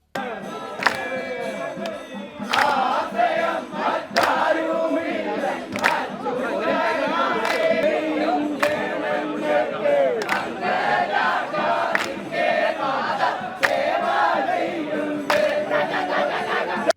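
A large crowd roars and chants in rhythm with traditional boat songs and ululation at the launch of Poovathoor West's new snake boat on the Pampa river, with sharp rhythmic claps or beats cutting through the dense, continuous din.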